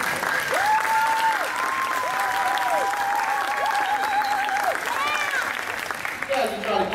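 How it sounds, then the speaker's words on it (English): An audience claps in steady, loud applause at an equestrian demonstration, lasting several seconds before fading slightly at the end. "give her a big round of applause"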